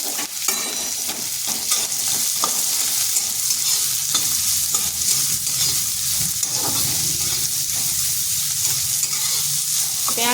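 Chopped onion with green chili frying lightly in a pan, a steady dense sizzle with occasional stirring scrapes, close and continuous with no talk.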